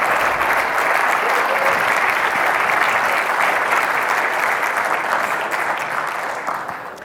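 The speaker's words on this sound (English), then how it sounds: "How about another round of applause for Randy Jones?" A conference audience gives a long, dense round of applause, strong and even at first and then gradually tapering off, with faint voices mixed in.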